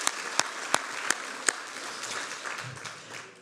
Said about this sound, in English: let's clap for them now